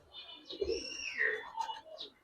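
Pigeons in a loft, a soft close cooing call with rising and falling warbled notes over about two seconds, fairly faint with light background noise.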